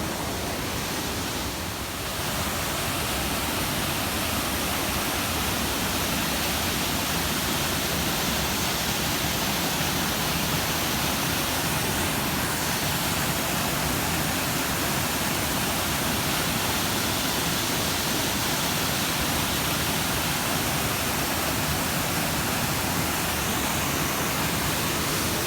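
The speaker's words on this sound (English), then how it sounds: "It's a beautiful waterfall, Cray Creek, very pretty." Steady, dense rush of falling water, broad and unbroken throughout, a nearby waterfall on Cray Creek roaring continuously with no voices.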